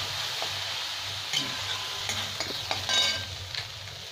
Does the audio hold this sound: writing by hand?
no